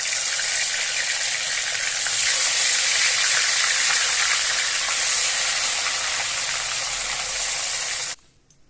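Bhola fish pieces fry in hot oil with a loud, dense, even sizzle and hiss that stays close and steady, then cuts off abruptly near the end.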